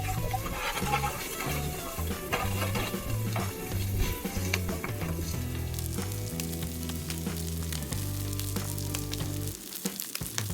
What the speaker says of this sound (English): I'm gonna cook these Spam pieces as is, and then I'll cut them up with the scraper